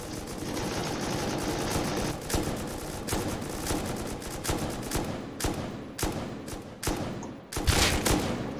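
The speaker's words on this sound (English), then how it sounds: "I'm shooting at someone point blank" Rapid gunfire in the survival game Rust, a near continuous stream of close, loud shots with short breaks between bursts and a heavier blast near the end.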